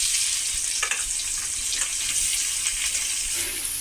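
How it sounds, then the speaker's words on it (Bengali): Boiled jackfruit and potato pieces fry in hot oil in a pan, a steady bright sizzle close by with light stirring scrapes and no speech. "এই তেলেই আমি সিদ্ধ করে রাখা এঁচোড় আর আলুগুলো একসঙ্গে ভেজে নেব।"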